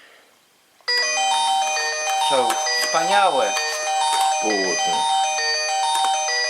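A mobile phone rings with a bright, repeating electronic melody that runs loud and steady for several seconds, while someone talks over it.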